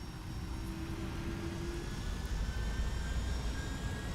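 Airliner jet engines spool up in X-Plane 12, a steady, broad roar with rising whining tones that climb in pitch as thrust builds, heard alone without talk.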